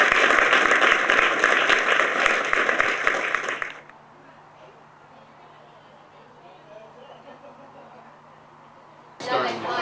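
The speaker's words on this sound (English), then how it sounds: "So Pastor Ed Johnson deserves another round of applause" An audience in a crowded room applauds at a clinic opening ceremony, loud sustained clapping that stops abruptly after about four seconds, then quiet room tone before another burst of applause starts near the end.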